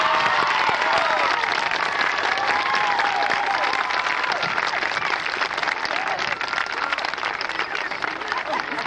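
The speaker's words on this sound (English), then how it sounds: "I'd like to ask you to give a nice round of applause to this wonderful security force of ours, Brother Chuck and Brother Chris and Brother" Audience at a 1980 graduation ceremony gives a sustained round of applause for the security staff, a dense wash of many clapping hands filling the hall, with light crowd noise mixed in.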